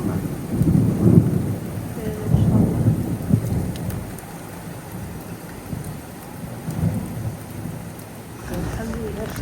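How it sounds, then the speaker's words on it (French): Heavy rain pours steadily in Morocco, with low rumbles of thunder rolling through the downpour at intervals; the storm sounds close and fills the whole scene, and no one speaks. "Et regardez, Inch'Allah, ce qu'il y a comme pluie."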